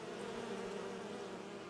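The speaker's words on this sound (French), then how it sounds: "il y a des abeilles." Bees drone in a continuous, fairly loud hum inside the Enderal game world built on Skyrim, an unbroken insect buzz that stays level throughout with no voices.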